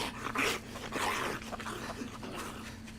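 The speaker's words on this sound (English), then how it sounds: "Oh, I hear dogs." Dogs yip and whimper in a few short, moderately close bursts against a constant low background hum, with no talking over them.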